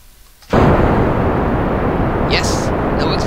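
Rocket engine thrust at launch in the Kerbal Space Program video game: a sudden loud, steady broadband roar kicks in after a brief quiet start and holds, with a few faint higher chirps on top.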